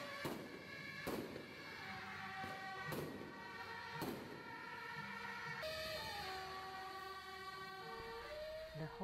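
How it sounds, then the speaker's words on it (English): Loud sharp bangs of firecrackers burst at irregular intervals at a Taiwanese temple fair, over a steady, wailing tonal drone, like sirens or horns sounding continuously in the background. "As the air fills with the sound of exploding firecrackers, people's emotions begin to run high."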